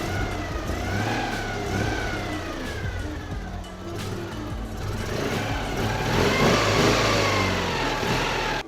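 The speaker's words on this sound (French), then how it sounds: "Allez, on démarre le moteur." A 1983 Citroën 2CV's small engine runs at close range with a steady mid-pitched drone. Its revs rise and fall in a few swells, then climb louder toward the end.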